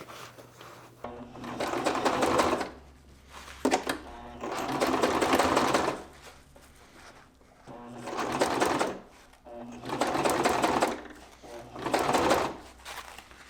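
A sewing machine stitches a front stretch pocket in repeated bursts of rapid mechanical whirring, about five runs separated by short pauses, loud and close.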